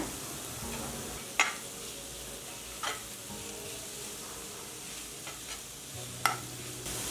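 Raw mango gojju with turmeric, salt and sugar cooks in a pan on low flame, giving a soft steady simmering sizzle with a few sharp clinks of stirring, close and fairly quiet, with no talk.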